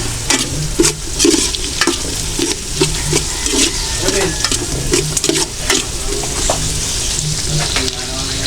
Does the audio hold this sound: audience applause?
no